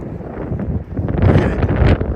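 Strong wind gusting across the exposed hills of Saddleworth Moor, buffeting the microphone with a loud, rumbling roar that swells toward the end, with no voices.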